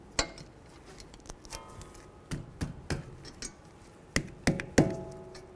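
A ratchet tightens brake caliper bolts on a 2007–2014 Ford Edge during a rear brake job, giving a series of sharp, close metallic clicks and ticks in irregular bursts.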